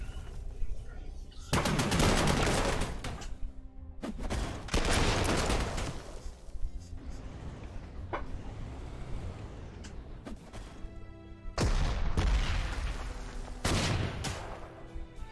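Artillery and gunfire from the Panzer Corps 2 war strategy game, heard as loud bursts of rapid firing and explosions alternating with quieter stretches across fifteen seconds, with no voices.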